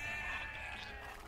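A sheep bleats in a video game, a steady mid-pitched cry lasting over a second, fairly faint against a continuous background hum.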